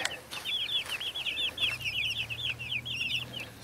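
Chickens outdoors on a homestead cluck and chirp in quick, busy chatter, several birds calling close by, with a low steady hum underneath.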